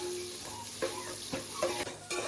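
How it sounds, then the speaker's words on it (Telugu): Chopped onions sizzle and fry in a pan for a home-cooked biryani, a steady crackling hiss broken by several sharp stirring scrapes and clinks, close and moderately quiet with no talking. "ఉల్లిపాయలు మంచి కలర్ వచ్చినంత వరకు ఫ్రై చేసుకోవాలి."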